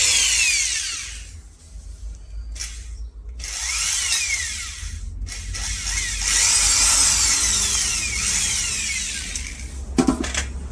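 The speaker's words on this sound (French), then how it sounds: "Et vous agrandissez le trou avec la mèche de 6," Power drill with a 6 mm bit enlarging a hole in aluminium clamped in a vice, a close, loud whine with shifting pitch through several passes and a brief pause.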